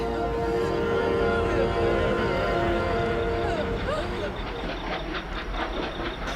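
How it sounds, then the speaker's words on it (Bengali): A train approaches on rails with a heavy rumble under a sustained tonal drone. In the second half a rhythmic clatter of wheels builds up and grows clearer. "এই ট্রেন কাছে আসছে"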